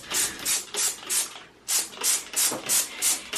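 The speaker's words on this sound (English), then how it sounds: "I literally just spray it all over the bathtub" A spray bottle of cleaner pumped repeatedly over a bathtub, about ten quick hissing bursts in a steady rhythm with a short pause midway, close and fairly loud.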